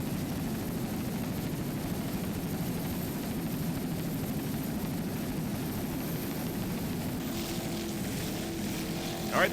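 A 24-foot Corsa powerboat with a 500-horsepower Mercury inboard racing offshore, a steady distant engine drone with water rush, growing louder at the end.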